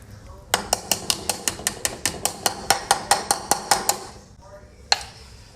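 A spoon stirring cauliflower leek soup with heavy cream in a metal pot, a rapid, regular run of about twenty bright clinks against the pot, then a single final knock.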